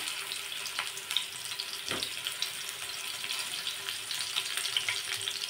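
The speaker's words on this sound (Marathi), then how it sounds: "मोहरी तडतडली की कोथिंबीर टाकायचा आणि ही कारली सोडायची आहे तेलावरती." Stuffed bitter gourds fry in hot oil with mustard seeds, giving a steady close hiss and sizzle with scattered small crackles and pops throughout, with no talking.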